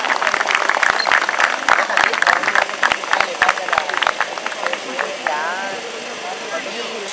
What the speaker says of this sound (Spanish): Fuerte el aplauso para... ¿Para quién?